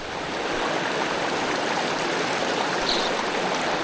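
A waterfall on a remote Pocono mountain trout stream rushes in a constant, dense roar, close and steady throughout with no voices.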